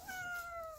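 A cat gives a single clear, drawn-out meow, close and fairly loud, with its pitch gliding slowly downward over under a second against a quiet background.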